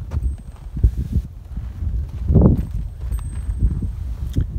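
Pack horses walk a mountain trail in the Sawtooth Mountains, their hooves clip-clopping in an uneven, close rhythm on dirt and rock, with gear rustling and a brief scrape midway.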